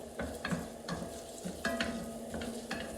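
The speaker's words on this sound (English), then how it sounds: "So I'm gonna put my onion and kind of sweat this a little bit." Onion sweating in a pan: a soft, steady sizzle runs throughout, with several light stirring scrapes at irregular intervals and no talking.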